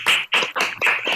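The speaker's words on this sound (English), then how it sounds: "give a warm round of applause and welcome Priyanka Mohan" An online audience welcomes Priyanka Mohan at the BeSt Festival with a few short bursts of applause, close and fairly loud, separated by brief gaps.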